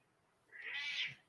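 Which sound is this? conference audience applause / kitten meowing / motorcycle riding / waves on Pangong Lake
kitten meowing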